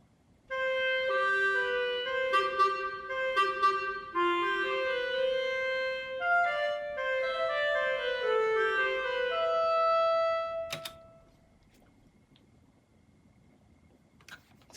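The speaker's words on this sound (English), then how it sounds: "With just a clarinet, it'll just sound like this one." A solo clarinet plays a flowing melody for about ten seconds, then stops, followed by a brief click and quiet.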